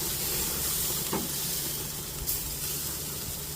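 Butter sizzling on steaks on an outdoor barbecue grill, a steady close hiss and crackle with a faint clink partway through and no talking.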